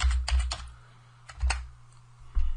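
Keys clack on a computer keyboard while the =rand formula is typed into Excel, a quick cluster of taps at the start, a pause, then a few more strokes, close and clear.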